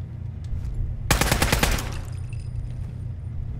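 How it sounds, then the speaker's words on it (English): Automatic gunfire from the December's Child assault rifle in Fallout 4's Far Harbor: a loud, dense burst of rapid shots lasting under a second, then fading into a low game ambience. "No, it seems to be an assault rifle."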